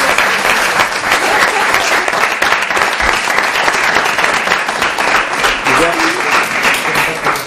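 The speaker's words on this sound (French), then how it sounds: "ça mérite quand même que tous les adultes dans la salle vous applaudissent" Loud, sustained applause from adults in a town hall for newly installed young municipal council members, dense, generous clapping throughout, with faint voices mixed in beneath it.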